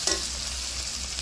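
Mustard paste hitting hot oil with fried spices for a pabda fish curry, giving a steady close sizzle with a brief brighter burst at the start and no voices.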